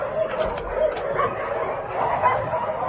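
Several dogs bark and yip in a noisy mix inside a dovecote, overlapping at moderate distance, with a low murmur of voices underneath.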